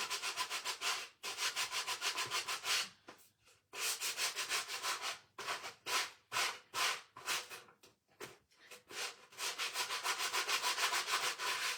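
Sandpaper wrapped around a sanding block rubs back and forth over a wooden board in a steady run of close, loud strokes, broken by a few short pauses.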